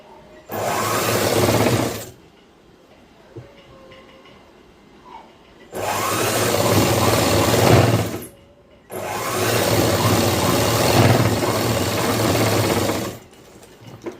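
Sewing machine stitching a boy's school uniform shirt, running in three long steady bursts with short quiet pauses between, loud and close, no voices.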